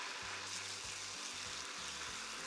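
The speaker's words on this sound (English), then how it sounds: "You can even actually almost start to hear the oil sizzling" Steady, soft crackling hiss of oil sizzling in a pan while making risotto, continuous and fairly faint, with low rhythmic hum and clunks underneath.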